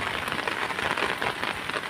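Steady rain patters on a surface during flooding, a dense, even hiss of drops with no voices, continuous throughout.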